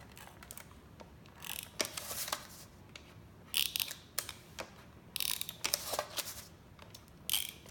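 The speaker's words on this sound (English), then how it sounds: "we're just going to take some sticky tape and apply it to the corners" Sticky tape is pulled and torn from a roll, then pressed onto cardboard corners while making a coffee cup carrier, giving several short, close ripping and crackling bursts separated by brief pauses.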